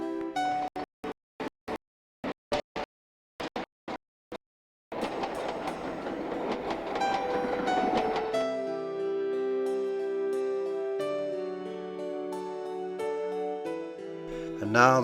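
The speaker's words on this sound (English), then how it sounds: "Another train passes." A train passing beside the Suez Canal, heard from a ship in transit: a run of rhythmic clicks first, then a steady rolling rumble of wagons going by, with a long tonal whine near the end.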